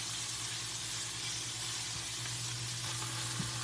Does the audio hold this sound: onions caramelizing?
yes